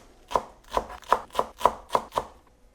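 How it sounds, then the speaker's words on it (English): Green chili and fresh coriander chopped on a board with a knife: seven crisp, evenly spaced chops, close and fairly loud, each a sharp thud with a short bright tail, with no voices. "I'm using 1 green chili chopped and a little bit of fresh coriander"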